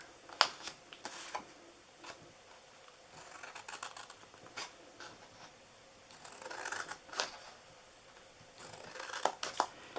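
Scissors cut paper for a DIY Christmas tote box, with scattered quick snips and rustles, some in short bursts, faint and close against a quiet room.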